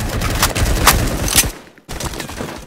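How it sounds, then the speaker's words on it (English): Rapid, dense automatic gunfire from the Roblox shooter game Phantom Forces, with overlapping bursts that continue loudly, stop briefly, then start again. "they're shooting us from the crane"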